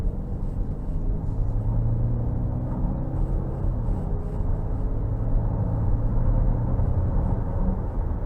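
Low, steady engine rumble and road noise from inside a 2023 Cadillac XT5 Luxury with the 2.0T turbo engine under light throttle, building slightly toward the end with no talk over it.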